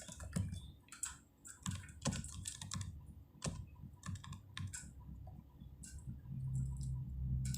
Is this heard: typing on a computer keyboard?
yes